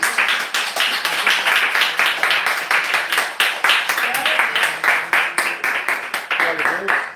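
A church congregation claps steadily in praise during a Friday worship service, a dense, continuous patter of many hands with rhythmic accents, loud and close, with voices mixed in throughout.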